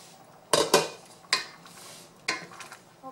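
A metal pot lid set down on a pot of boiling lentil soup with kale, chard and smoked sausage, giving a few sharp clanks and clinks spread over a few seconds, close and fairly loud against a quiet kitchen.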